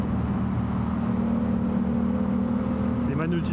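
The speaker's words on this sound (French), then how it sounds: "Alors le shifter donne quand même des petits à-coups" Yamaha R7 sport motorcycle engine running steadily with a quickshifter, a continuous loud drone that holds most of the time, then a quick pitch change and faint voice near the end as gears shift.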